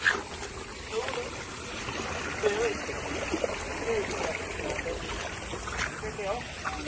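Flowing stream water runs nearby outdoors, a steady broadband rush with occasional small splashes, heard at moderate level throughout.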